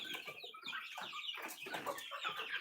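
Native country chickens cluck in a steady, overlapping stream of short calls, close by and fairly soft, with no voices over them.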